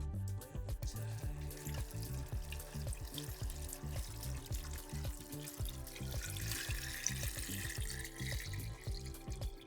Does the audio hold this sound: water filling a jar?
yes